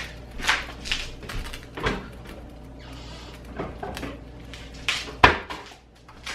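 Kitchen cabinet rummaging while hunting for an open bottle of cooking oil: scattered clinks of bottles and dishes, a cupboard knock and shuffling items, with one sharper clatter near the end, close and moderately loud.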